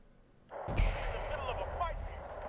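Artillery bombardment in the Wargame Red Dragon video game, with a burst of booming explosions starting partway through and settling into a sustained rumbling barrage, a voice talking over it.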